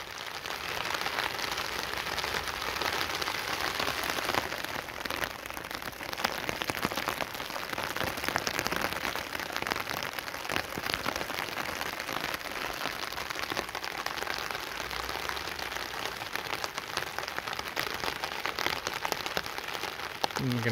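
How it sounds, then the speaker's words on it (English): Steady rain patters on a bushcraft tarp, a dense, even hiss of drops that runs unbroken and close by throughout, with no voices. "it has been raining here for about 15 minutes"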